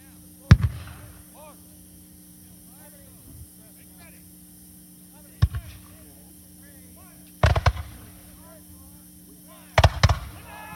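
Muskets fire at a re-enactment of the Battle of Hubbardton, four sharp booming shots spread over about ten seconds, some as ragged volleys, with a narrator speaking over distant crowd noise between shots.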